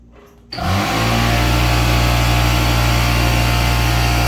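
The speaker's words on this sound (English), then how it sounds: "I'm going to turn on my air compressor, so it is going to be loud" An air compressor for pumping up a tire kicks on after a short quiet moment and runs at a loud, steady, droning hum to the end.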